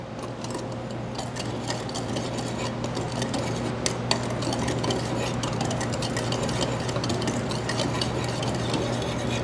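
Dry ingredients for a chocolate espresso cake are stirred in a bowl with steady scraping and light clinking of a utensil, a continuous close rustle over a low steady hum, with no talking.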